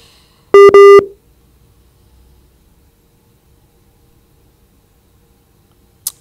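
Short burst of telephone tones on a dropped radio call-in line: two quick loud beeps close together, then near silence with a brief click at the end.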